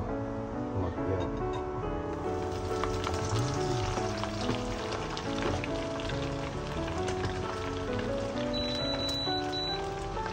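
Dried squid fries in a pan of hot oil, giving a loud, steady, close crackling sizzle that runs unbroken throughout, with light stirring underneath.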